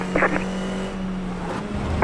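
A race car engine in the iRacing simulator drones steadily through a corner, its tone holding then dipping briefly before rising again as the throttle reopens, loud and continuous with no talk.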